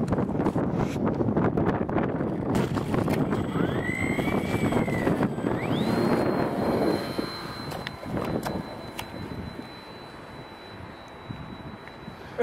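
Strong wind buffets the microphone at a model plane flying field, with a brushless Super Cub model's motor whining and rising in pitch, then a long steady tone as gusts ease toward the end.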